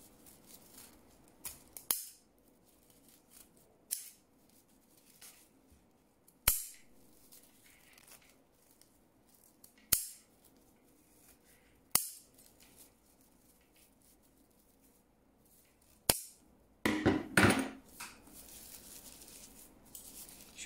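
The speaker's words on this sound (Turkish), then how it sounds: "Hemen büyük makasla devam edelim." Sharp snips of large scissors cutting paper cord at irregular intervals, each a crisp isolated cut, followed by a rapid burst of several quick cuts near the end.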